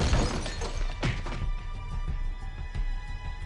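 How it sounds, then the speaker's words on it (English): Glass shattering in 428: Shibuya Scramble, a sharp crash at the start followed by a second smash and scattered tinkling fragments fading away over a low background. "He heard the sound of glass shattering."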